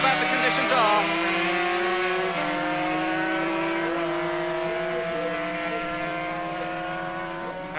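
Race cars at the 1982 Dutch Grand Prix on a damp track, engines whining through the chicane with rising and falling pitch as gears change, heard at a distance under continuous commentary.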